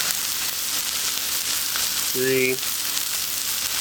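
Chicken sizzles steadily in a hot pan as part of a caprese chicken sandwich, a constant close frying hiss running throughout, with a brief spoken word partway through.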